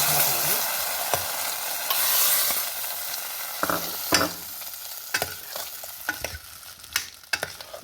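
Hot tempering sizzles loudly as it hits dal for a wild mango pappu, a broad steady hiss that gradually thins out, broken by sharp clinks and scraping taps toward the end.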